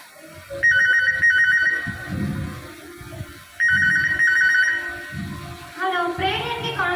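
A telephone rings for an incoming call to a prayer line, two bursts of a trilling electronic ring about three seconds apart, with a voice beginning to speak near the end.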